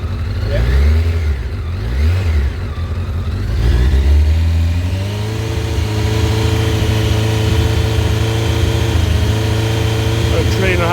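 A car engine revs up to about 3,500 rpm, rising and falling in a couple of surges before holding at a steady high hum, loud and close.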